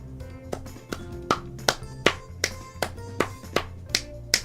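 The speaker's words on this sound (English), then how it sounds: "I am now clapping my hands" One person claps their hands, a steady run of about a dozen sharp, fairly close claps at an even rhythm over music, during a Steam Shovelware stream.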